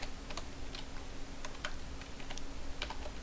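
Quiet typing on a computer keyboard while entering a short Python program into a text file, with scattered soft key clicks in an uneven rhythm over a low background hum and no voices.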